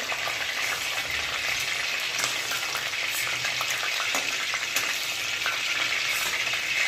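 Chopped onion sizzles steadily in hot oil in a pan while making pav bhaji, a dense, even crackle with occasional sharper pops throughout and no voices.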